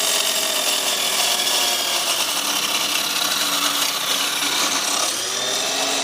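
An experimental saw blade spinning and cutting into wood, producing a loud, dense, continuous grinding rasp that holds steady throughout, close up with no voices.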